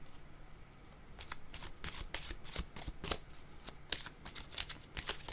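Tarot cards are shuffled in a rapid series of crisp riffling bursts and flicks, with brief pauses between them, close and fairly quiet with no speech.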